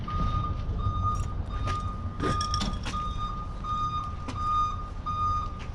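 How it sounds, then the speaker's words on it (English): Truck reversing beeps repeat steadily at a moderate distance over constant engine rumble at a job site, with a few louder clanks in between. "who's backing the truck down?"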